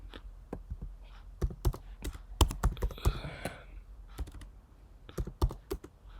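Keystrokes on a computer keyboard, tapped out in quick irregular bursts of sharp clicks with brief pauses, close and fairly clear with no talking.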